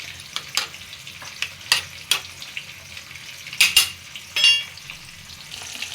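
Fish pieces of ari, ilish and bahu fry in a pan for a Manipuri-style vegetable soup, a steady close sizzle broken by several sharp clinks and scraping stirs, with no talk.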